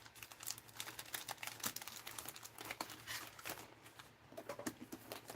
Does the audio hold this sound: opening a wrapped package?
yes